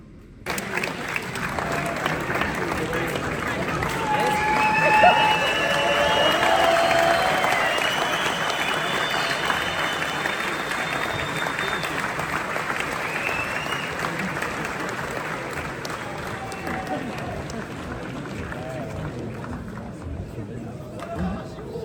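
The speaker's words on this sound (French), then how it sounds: "faites du bruit s'il vous plaît, encore une fois, pour Attrape du fort" A large crowd at a Top Gear evening event applauds and cheers, swelling early then holding a steady wash of clapping and shouts, with a French-speaking host speaking over it.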